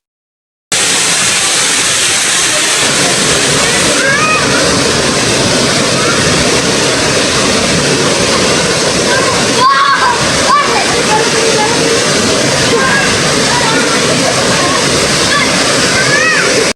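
A mountain waterfall roars steadily, a loud, continuous rush of falling and splashing water close by, with a few faint voices and birdlike chirps barely rising above the noise.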